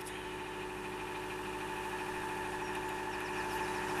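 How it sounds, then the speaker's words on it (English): A moored narrowboat engine idles steadily after a morning start, a low continuous rumble with an even hum and no talk. "Say the engine's running."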